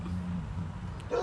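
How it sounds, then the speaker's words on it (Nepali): Village dogs give a few faint, distant yips and barks over low background noise, all within about a second. "कुकुर चाहिँ धेरै रहेछ गाँठे"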